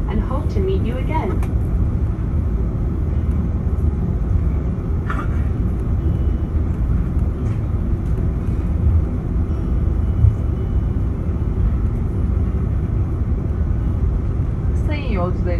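Steady low cabin rumble inside a Turkish Airlines Airbus A330 taxiing to the gate, continuous and even throughout with a few faint interior clicks.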